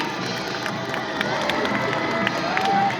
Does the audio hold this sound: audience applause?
yes